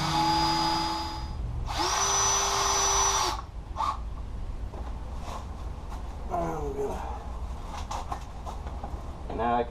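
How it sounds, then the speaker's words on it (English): A power drill pre-drills screw holes in a wooden garden gate, with a sustained high whine for about three seconds in two bursts, followed by quieter workshop clatter and brief clicks. "It's a good idea to pre-drill all your screw holes too."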